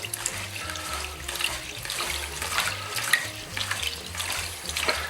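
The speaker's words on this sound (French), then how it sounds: "on les met dans un saladier avec de l'eau froide, et puis on va les laver à l'eau claire plusieurs fois" Red lentils being rinsed by hand in a bowl of cold water in a kitchen give a steady close sloshing and splashing, with light swirling pulses and no voices.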